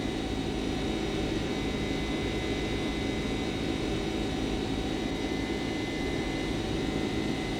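A Boeing 767 takes off out of Chicago in a flight simulator, its jet engines holding a steady, loud, broadband roar with a faint high whine that does not let up, with no speech.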